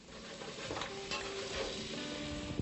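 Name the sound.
stirring squash sweating in a pan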